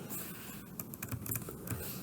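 Quick typing on a computer keyboard during a coding session, a steady patter of close, light key clicks with a few heavier strokes, no voices.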